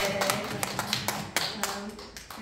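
At a church youth Sunday service, the congregation claps, with scattered, fairly quiet hand claps mixed with a voice speaking over them.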